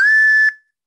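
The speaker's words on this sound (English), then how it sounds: "Penny whistle" A penny whistle sounds one short, steady, piercing high note, loud and close, alone before cutting off abruptly into silence.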